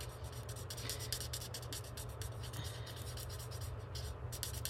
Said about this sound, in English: smoky slate marker, and I just colored him in so it looks more of a shadow versus a sketch